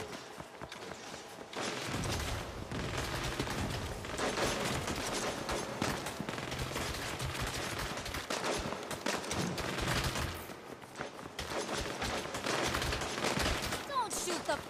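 Dense gunfire rattles through a graveyard fight in the Saints Row video game, with bursts of automatic shots sustained almost continuously and dense overlapping fire.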